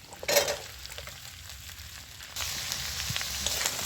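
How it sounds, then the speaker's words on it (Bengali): Cut brinjal and potato going into a hot pan of fried spices, a sharp burst of sizzle at first, then a quieter steady frying hiss that swells again near the end, with no voices. "এবার কেটে রাখা বেগুন আর আলুটা আমি দিয়ে দিচ্ছি।"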